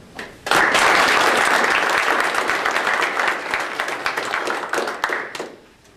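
An audience at a Darwin Week 2011 university lecture on coevolution claps to welcome the speaker, with a burst of dense applause that starts suddenly, holds loud for several seconds, then tapers off.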